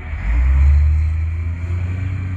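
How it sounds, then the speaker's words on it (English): A truck passes by a front garden, a loud low rumble that swells in the first second and then slowly fades while staying steady, with no talk. "we had another truck going by"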